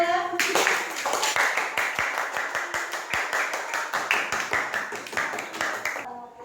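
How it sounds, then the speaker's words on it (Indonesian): A classroom group claps for a presenting student team, rapid rhythmic close handclaps with some in unison, sustained for several seconds before stopping abruptly, with voices mixed underneath. "tepuk tangan buat kelompok 2"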